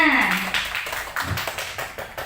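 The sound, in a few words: audience clapping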